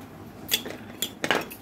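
A metal spoon clinks against a cup or bowl a few times while stirring honey into a homemade cough remedy, close and sharp taps over a quiet background.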